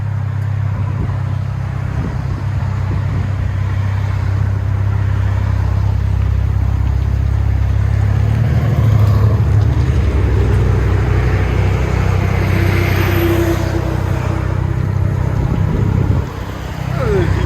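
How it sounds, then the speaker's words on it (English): 2019 Chevy Silverado with 2.7L turbo four-cylinder and Black Widow Widowmaker exhaust, a loud, deep, continuous engine drone with a swelling rev midway, heard up close outdoors. "'19 Chevy Silverado Black Widow Widowmaker 4-cylinder turbo."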